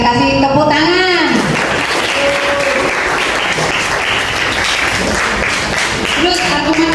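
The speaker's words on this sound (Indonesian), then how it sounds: "kita kasih tepuk tangan" Classmates in a school classroom break into loud, continuous applause while voices speak and call out over the clapping, with a teacher's voice rising at the start and end.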